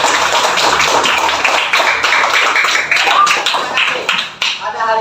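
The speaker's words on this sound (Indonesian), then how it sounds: "Tepuk tangan dulu." A classroom of students claps hands together in a dense, loud burst of rapid claps that fades near the end, with some voices mixed in.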